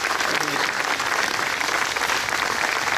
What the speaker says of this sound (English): can we give a round of applause that all of Muttontown will hear for our new mayor, Dr. James Liguori.